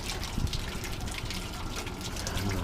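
Water drains steadily through a siphon from an aquaponics grow bed, a continuous rushing gush with gurgling low-end churn that keeps going at even loudness, close by and without voices.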